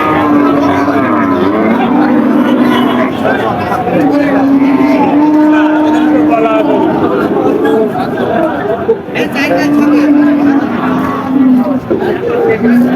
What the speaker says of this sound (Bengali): সামনের দিকে দেখতে পাচ্ছেন কি পরিমাণ গরু রেকর্ড গরু আমদানি